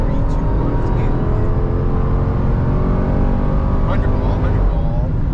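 A 2022 Cadillac Escalade ESV pulls hard, its engine roaring loud and steady with a deep rising drone throughout, while voices are faintly mixed in.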